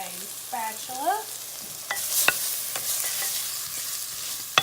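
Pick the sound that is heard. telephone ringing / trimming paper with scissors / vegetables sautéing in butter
vegetables sautéing in butter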